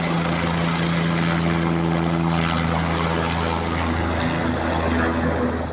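A rescue helicopter flies over a disaster zone hit by a cloudburst and floods, its rotor and engine drone loud, steady and close, a continuous low hum with thick broadband wash holding throughout without pause.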